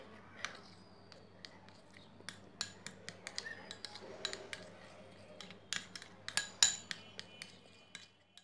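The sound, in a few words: spoon mixing lemon juice into face pack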